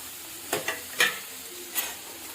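Chopped tomatoes tipped into a pan of softened onions, a soft hiss of frying with a few scraping stirs and clinks spaced across a couple of seconds, fairly quiet and close.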